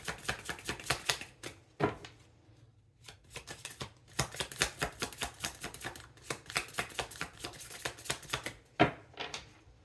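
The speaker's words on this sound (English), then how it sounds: "Two more shuffles." Tarot cards are shuffled by hand for a reading, giving a rapid run of crisp riffling slaps and flutters in bursts, close and fairly quiet, with short pauses between shuffles.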